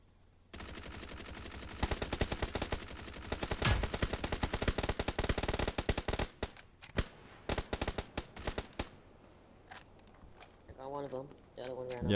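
Gunfire from the mobile shooter game PUBG New State: long rapid bursts of automatic fire crackle for several seconds, then thin out into scattered single shots, followed by a player talking briefly near the end.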